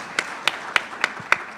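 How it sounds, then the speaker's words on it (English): Six evenly spaced claps ring out in a steady rhythm, sharp and distinct against a quiet background, at a summit event. "clap that up."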